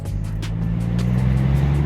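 A Nissan 240SX driving, heard from outside at a distance: a steady low engine drone with a rumbling exhaust note that holds fairly constant for the whole stretch.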